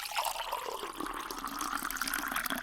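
Cold water poured into a cup, a steady quiet trickling stream that fills continuously without a break.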